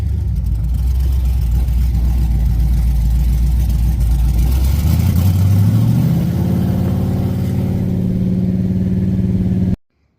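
An LS-swapped wagon with a loud, barely muffled exhaust holds a steady rumbling idle, then revs up smoothly and holds a higher drone before cutting off abruptly.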